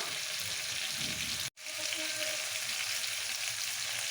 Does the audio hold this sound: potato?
yes